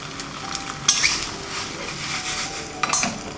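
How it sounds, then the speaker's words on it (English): Penne arrabbiata in red sauce being moved from a pan onto a serving plate, with soft stirring and scraping over low sizzling and two sharp utensil clinks against metal or ceramic. "Now we will transfer the pasta into the plate."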